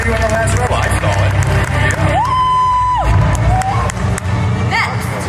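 Convention audience at a cosplay contest cheers and shouts in a dense, continuous roar, with whoops and scattered voices over a loud crowd bed and a brief sustained tone in the middle.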